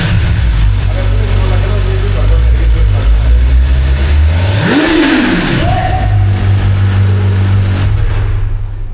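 A Kawasaki Z900 motorcycle engine idles with a steady low rumble, then gives one sharp rev that rises and falls before settling back to idle, heard up close with people talking over it.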